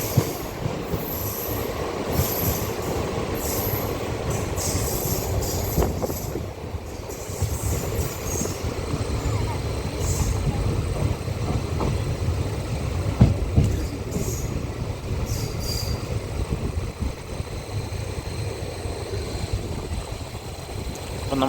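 A train pulls into Nagercoil Town station with a loud, continuous rumble of railway cars and squealing wheels. Faint clicks from the rails run under it, with no voices.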